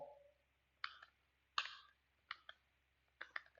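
A computer mouse clicks in a quiet room, four spaced pairs of crisp clicks, close and distinct, with no talking.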